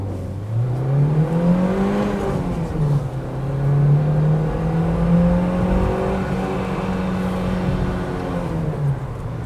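A Renault Duster accelerating through city streets, its engine note climbing and dipping as the revs rise through short gears, a loud, continuous drone heard from inside the car with no talking.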